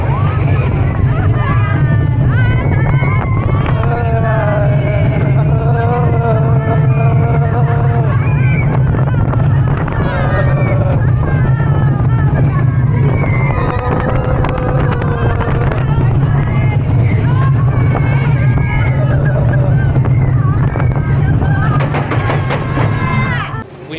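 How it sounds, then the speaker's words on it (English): The Flounders Flying Fish family roller coaster in Tokyo rumbles steadily on its track while riders whoop and shriek, with wind buffeting throughout and a constant loud roar from start to finish. "This is the Flounders Flying Fish Coaster."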